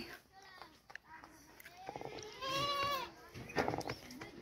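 Sheep bleating nearby, several wavering calls overlapping, with faint voices and rustling in the background.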